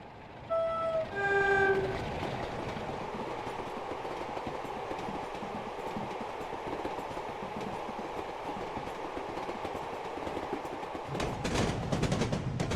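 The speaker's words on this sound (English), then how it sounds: "we'll let the train go through" A train rolls over a level crossing in Train Simulator Classic on the Wessex Main Line, opening with a short horn-like tone and chimes before a long, steady clatter of wagons passing close, with a burst of louder rattling near the end.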